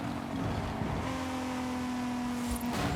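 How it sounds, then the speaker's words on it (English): A rear-wheel-drive German car's engine drones steadily in Forza Horizon, a sustained tone holding under road noise before rising slightly as it revs near the end. "Love that engine sound."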